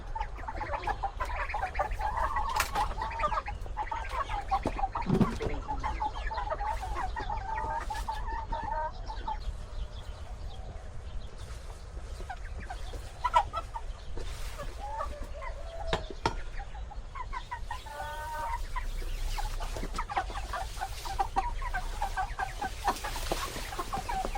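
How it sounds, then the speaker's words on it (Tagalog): Chickens cluck and chatter on and off at feeding time in Taiwan over a steady low background hum, a few birds near and others farther off, with no talking. "pakain tayo ng manok mga kapatid"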